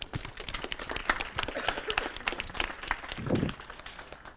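An audience at a group sharing session breaks into sustained applause, a dense, steady patter of many hands clapping that stays fairly even for several seconds, with a fuller swell of clapping near the end.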